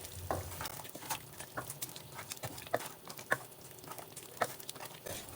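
Blended ogbono being stirred into a pot of soup on reduced heat, giving soft scraping and sloshing strokes with light sizzling underneath, close and fairly quiet, repeating irregularly over a few seconds.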